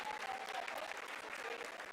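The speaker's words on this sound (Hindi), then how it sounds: "आप तालियों के गड़गड़ाहट से सुन सकते हैं" Steady applause fills ISRO mission control during the Chandrayaan-3 lunar landing, a dense, continuous clatter of many hands with no pauses, heard at moderate level throughout.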